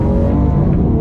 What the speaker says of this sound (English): This thing really loves full throttle downshifts and upshifts.